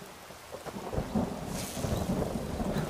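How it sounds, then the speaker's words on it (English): Thunder and rain in Skyrim, a low rolling rumble that swells under a steady wash of rainfall, close and fairly loud without any voices. "I like that lightning."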